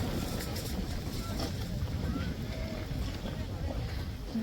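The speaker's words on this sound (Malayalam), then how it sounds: "ഇപ്പം നമ്മള് സഫാരിയുടെ ഉള്ളിൽ കയറി നല്ലൊരു കാറ്റ് വീശാണ്." Strong wind blows at a desert safari, a constant low buffeting rumble across the microphone throughout, fairly loud and continuous.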